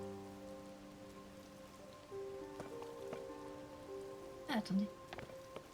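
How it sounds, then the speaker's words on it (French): Rain falls steadily in The Legend of Zelda: Tears of the Kingdom, a soft, even patter under sustained game music tones, with a voice speaking briefly near the end. "attendre un petit peu que la pluie passe"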